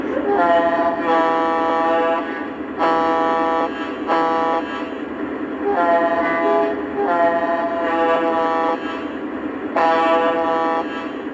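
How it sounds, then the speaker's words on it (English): A Lionel H15-44 road switcher model train horn sounds in several bursts separated by short pauses, bright and whistly, with a quiet mechanical hum underneath. "The horn has this fun part that kind of makes it sound like a young kid going through puberty."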